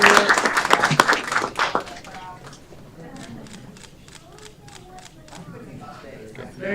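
A burst of crowd applause at a city council meeting that quickly tapers into scattered, lighter clapping.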